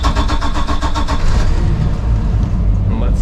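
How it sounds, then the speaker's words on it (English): A boat engine on a Caribbean fishing boat runs loud and close with a steady mid-pitched drone and rhythmic pulsing early on, settling into an even idle. "I might just run the engine just so we don't run out of battery power here."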